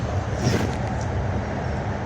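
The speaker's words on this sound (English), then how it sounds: "That's the sound of the city right there" A steady wash of city traffic noise, low rumbling engines and a passing whoosh, continuous and moderately loud with no distinct voices.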